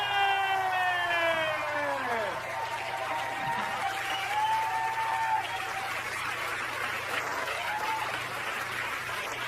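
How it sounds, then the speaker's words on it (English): Comedy club audience applauding for Amy Schumer as she is introduced, a broad steady wash of clapping with cheers, while sustained tones and pitched whoops rise and fall over it near the start. "Put your hands together for Amy Schumer!"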